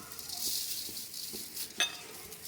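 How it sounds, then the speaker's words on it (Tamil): Moringa leaves fry in oil in a kadai with a steady, soft sizzle, interrupted by occasional stirring scrapes and a brief metallic clink from the pan, close and fairly quiet. "நம்ம கொஞ்சம் கொஞ்சமாக அதை அப்படியே நல்லா எண்ணெயில் வறுத்துக்குவோம்."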